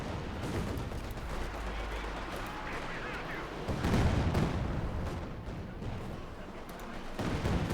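Rapid gunfire and explosions rattle through a Company of Heroes 2 battle as an anti-infantry gun tears into infantry, dense, continuous bursts with heavier booms, while a commentator talks over the combat.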